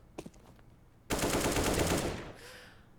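Loud burst of automatic gunfire in the CS:GO match on Mirage, a sustained rattling volley of roughly a second after a couple of faint clicks, then tapering into softer game ambience.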